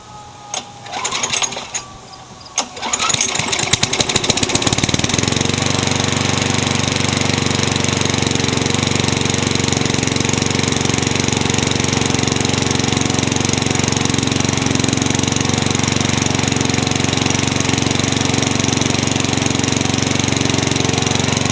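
Craftsman lawn mower engine, freshly repaired after an engine swap and primed with a little gas, sputtering through a few rough tries before catching, then running loud and steady close by for over fifteen seconds.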